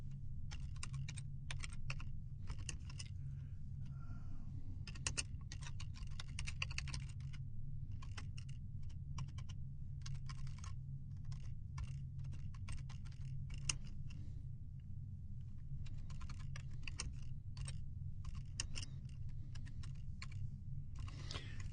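Keys clatter on a computer keyboard in irregular bursts of typing with short pauses, quiet and close, over a low steady background hum with no voices.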